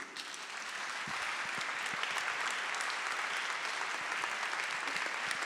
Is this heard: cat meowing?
no